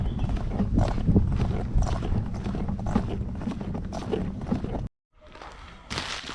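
Horses' hooves clip-clop at a walk on a hard surface, close and steady for several seconds, then break off into brief silence before a burst of noise resumes.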